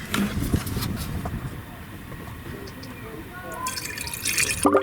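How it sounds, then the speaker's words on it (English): Blue Devil liquid is poured into the coolant reservoir of an overheating Yukon/Tahoe, giving a soft trickling and dripping that runs steadily under a voice speaking throughout. "So we're gonna pour the entire contents right into this reservoir."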